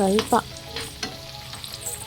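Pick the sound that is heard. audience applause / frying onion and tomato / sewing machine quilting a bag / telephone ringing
frying onion and tomato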